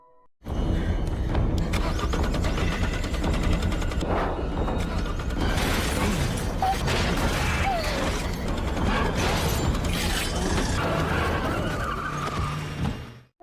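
A police van in a creature-horror film scene is started and driven off after its window is smashed, a loud, continuous roar of engine strain and grinding, creaking mechanical noise with skidding throughout, no voices.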